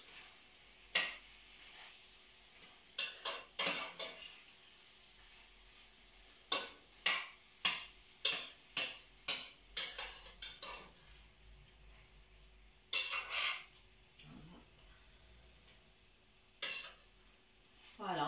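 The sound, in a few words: stirring veal kidneys in a pan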